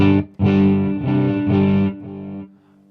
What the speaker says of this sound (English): Well, first of all, here's my clean sound.